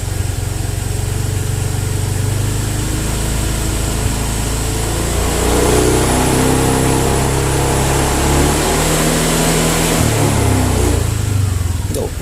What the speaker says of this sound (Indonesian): Nah, sudah turun, baru kita gas pelan-pelan.